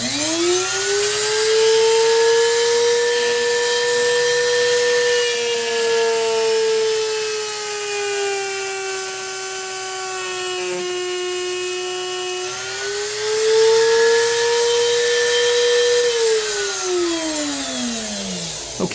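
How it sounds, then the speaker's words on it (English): A machine mills a flat spot onto a metal shaft with a loud, continuous tonal whine. The pitch sags and rises as the cut loads and eases, steady for nearly twenty seconds. "I'm going to go ahead and turn on the machine to put this flat spot on that shaft"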